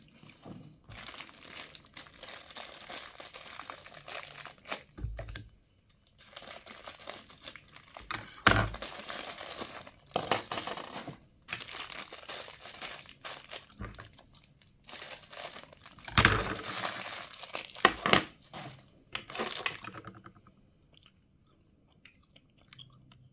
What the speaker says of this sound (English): I'm tired of fighting these bags. Everything is in its own little plastic bag.